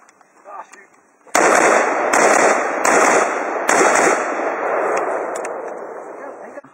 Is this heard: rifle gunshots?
yes